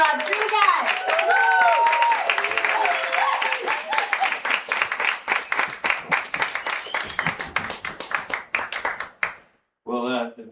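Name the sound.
audience applause at a book launch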